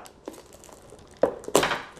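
Original shrink wrap being peeled off a 1997 XCar: Experimental Racing game box by hand, a few sharp crinkly tearing crackles in quick bursts, close and moderately loud, with quiet gaps between.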